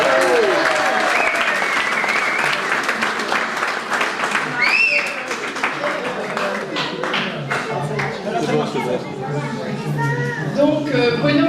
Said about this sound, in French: donc il faut l'applaudir. On l'applaudit.